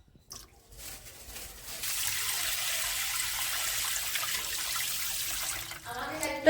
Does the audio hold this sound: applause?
no